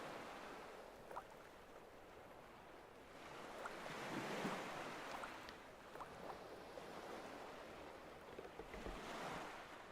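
Waves wash onto a shore in the video game Static Dread, a soft steady surf with gentle swells rising and falling, faint and distant beneath a breathy wind, with no voices.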